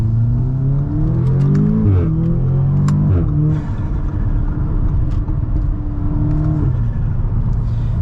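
A tuned stage 2 Audi S3 fitted with a resonator accelerates hard at full throttle, its engine note rising steadily through the gears with brief dips at each shift, loud and close over a constant low rumble.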